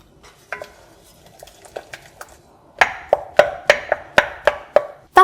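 A spoon stirs chopped chocolate and caster sugar for a soufflé base in a bowl, with light scraping at first and then a run of sharp, evenly spaced clinks against the bowl, close and alone.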